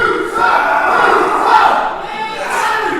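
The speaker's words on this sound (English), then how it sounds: "Crowd responding in style, though." A wrestling audience at a live pro wrestling show cheers and shouts in a loud, continuous roar of many voices that swells and dips slightly, with no commentary heard over it.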